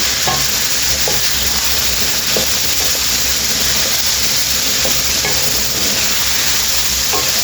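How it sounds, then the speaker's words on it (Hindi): Mixed vegetable pickle stirred in hot oil, a loud, continuous frying sizzle broken by regular spoon scrapes against the pan. "मिक्स करके हमने चूल्हा बंद कर देना, इसको ज़्यादा पकाना नहीं है। बस इसको मिक्स करना।"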